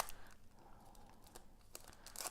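A tightly packed plastic bag being torn and cut open, with close, faint crinkling and ripping rustles in irregular bursts and no talk.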